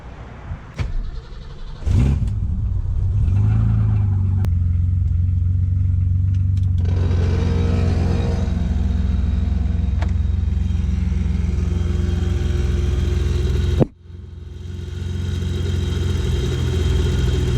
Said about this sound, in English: start the car and let the water pump suck in the water so we can make room for more